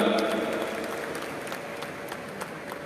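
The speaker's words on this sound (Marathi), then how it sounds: "टाळ्यांचा पुन्हा एकदा मोठा कडकडाट." Loud applause fills the hall at the National Women's Parliament inauguration, a broad, continuous wash of many hands clapping that fades slightly over a few seconds, with a faint steady hum behind it.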